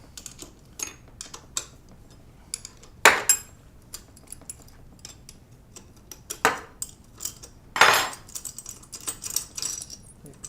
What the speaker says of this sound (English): Got to take these 3 bolts back out.